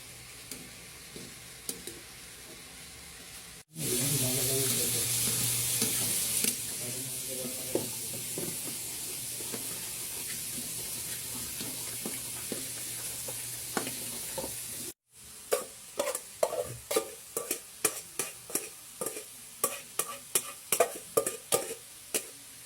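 Sweet potato, carrots and jicama stir-fry in a pan: a loud burst of sizzling hiss as they hit the oil, then steady frying, ending with a run of quick utensil scrapes and clinks against the pan.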